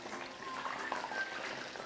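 Potato pieces for homemade fast-food-style fries fry in hot oil, giving a faint, soft bubbling sizzle with light crackles and pops.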